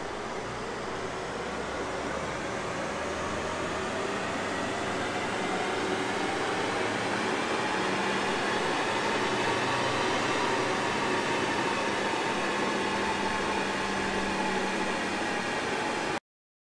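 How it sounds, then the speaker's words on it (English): A VW Tiguan 2.0 TDI runs hard on a chassis dyno, a steady loud broadband roar with a tone that climbs gradually through the run before cutting off. "This is the dyno before run."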